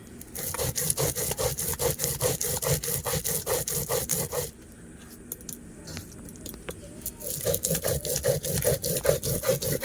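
Chilli is ground into paste on a stone with a grinding stone in rapid, rhythmic rasping strokes, close and steady, pausing for a few seconds midway before the scraping resumes.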